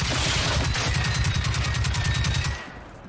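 Video game gunfire, a rapid, evenly spaced automatic burst lasting about two and a half seconds, loud and close, then cutting off abruptly.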